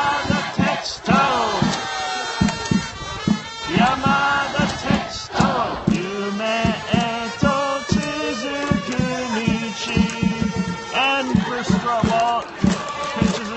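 Baseball crowd chanting and singing Yamada Tetsuto's cheer song at a Swallows versus Dragons game in Akita, a loud rhythmic mass of voices with pulsing drumbeats, continuous throughout.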